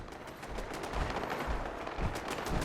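Automated defensive turrets firing in the Fallout 76 video game, a steady stream of rapid, dense gunfire bursts that carries on without a pause at moderate loudness.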